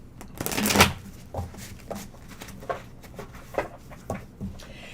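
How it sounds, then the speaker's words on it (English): A deck of tarot cards being shuffled, with a loud riffle burst near the start followed by several softer, separate card slaps and flicks close by, and no speech. "I don't know why I'm shuffling these again now"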